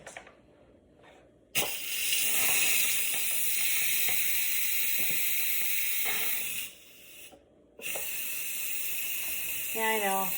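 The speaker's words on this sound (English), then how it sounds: "I put on the lid and now I gotta steam it out" Pot of gumbo steams under its lid, producing a loud, steady hiss that drops out briefly twice before resuming, with a short voice near the end.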